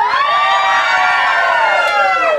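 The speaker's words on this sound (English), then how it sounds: "Please don't laugh, try to scream." A crowd of party guests at a 60th birthday celebration screams together, a loud sustained chorus of high-pitched voices held for a couple of seconds.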